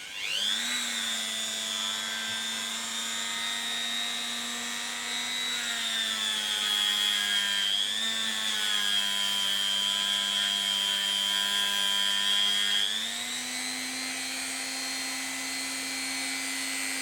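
A Dremel rotary tool works on an old Waltham, giving a steady, loud high-pitched motor whine that runs continuously with slight dips in pitch under load.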